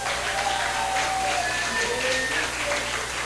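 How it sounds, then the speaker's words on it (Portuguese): A church congregation claps steadily and densely for the whole stretch, a thick wash of applause filling the room while a voice carries faintly underneath. "Palmas para ele, irmãos"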